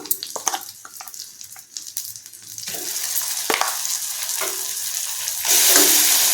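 Cucumber and coriander chutney hits a hot frying pan that was just used for frying chillies, giving a few sharp crackles and stirring scrapes before a steady, close sizzle that swells louder near the end; no voices.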